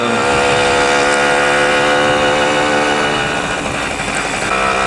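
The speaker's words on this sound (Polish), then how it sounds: "Dzisiaj sobie jedziemy na Simpsonie z 51" A Simson S51 moped, fresh from a light engine overhaul with new bearings and seals, drones steadily and loudly while being ridden, its engine note holding a continuous buzzing tone with no talking.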